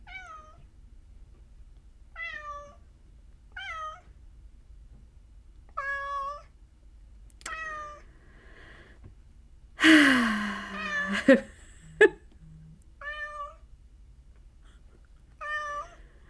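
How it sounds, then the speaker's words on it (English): A cat meows repeatedly at a steady pace, close and clear, with a louder, drawn-out yowl partway through and a couple of soft clicks. "now he's meowing."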